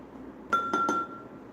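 An item drops into a glass container with three quick bright clinks, the glass ringing on briefly afterward; close and fairly quiet, no voices.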